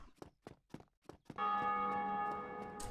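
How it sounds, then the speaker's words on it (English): Bell ringing in Dark Souls Remastered: a few soft, evenly spaced thuds, then one loud, sustained metallic bell tone that rings on and slowly fades, with no voices. "Oh, somebody else is ringing the bell."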